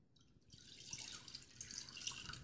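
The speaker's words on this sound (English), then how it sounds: "your first step is to pour the 1 cup of almond milk into the pot" Almond milk pours steadily into a cooking pot, a soft continuous liquid splash that builds slightly in loudness and runs alone without any talk.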